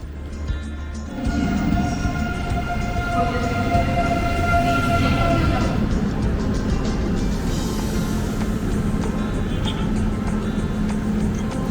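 A Eurostar train rumbles steadily nearby at a railway station in Lille with a low mechanical drone and faint high whine, continuous and fairly loud, voices faint in the background.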